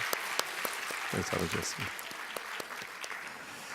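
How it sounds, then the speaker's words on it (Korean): A church congregation at a Sunday morning service applauds to welcome a member, a spread of clapping from many hands under a brief spoken greeting. "박수 받겠습니다"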